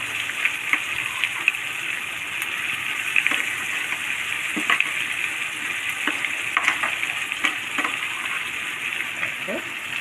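Onions sautéing in sesame oil with tomato, chilli and tamarind for a spicy chutney give a steady, even hiss of frying, with faint clinks and a few scattered knocks and no clear talking.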